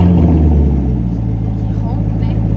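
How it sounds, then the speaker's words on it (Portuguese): A car engine rumbles loudly and close, holding a deep, steady idle with a slight rev, and no voices are heard over it. "vou ligar o carro pra você ouvir o barulho dele"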